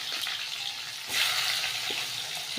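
Onions drop into hot oil already holding bay leaves, five-spice seeds, a dried chilli and crushed garlic, and a steady frying hiss surges louder for a moment as they land, then keeps sizzling without pause.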